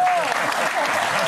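A studio audience on a French TV talk show claps, a brief burst of dense applause heard under a voice talking.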